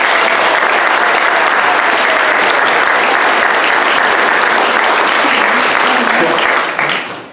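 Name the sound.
audience applause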